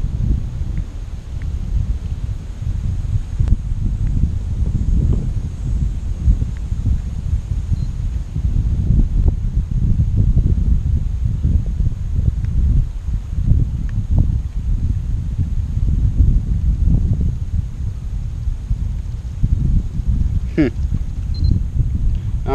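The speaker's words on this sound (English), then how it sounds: "Wind's kind of tossing it around a little bit" Steady outdoor wind by a lake rushing across the microphone as a low continuous rumble and buffeting, with brief faint mechanical whirs from a remote control kayak near the end.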